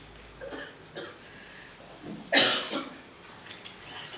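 A woman suffering a rhinitis flare-up gives a short, sharp cough with a raspy follow-up, close and fairly loud against a quiet room, with a faint second catch near the end.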